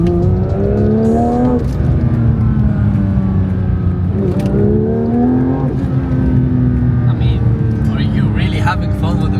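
A Porsche 911 GT3 pulls hard on the road, its engine note rising loudly through several gear changes with brief dips between shifts, heard from inside the cabin with some talk.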